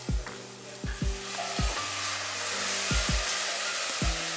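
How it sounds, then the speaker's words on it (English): Carrots sizzle steadily in a hot pot, with a few sharp scraping stirs knocking against the metal. "Let that sizzle"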